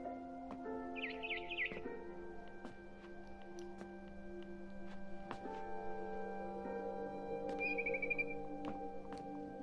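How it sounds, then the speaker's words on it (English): A barn swallow chirps outside a window, with brief high tweets and twitters standing apart against a quiet background hum and occasional faint clicks. "Then I heard chirping outside my window."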